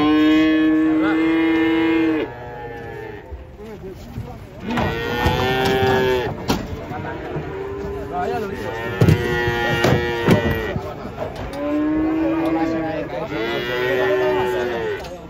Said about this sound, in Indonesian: Detik-detik penurunan sapi.